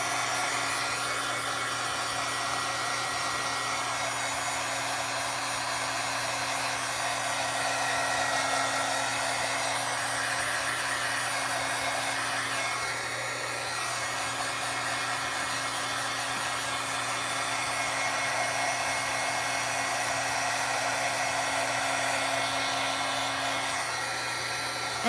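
A heat tool blows steadily over a snowflake card page while the embossing ink dries, a continuous close-up whirring hum with a faint tonal drone that runs unbroken and at an even level throughout.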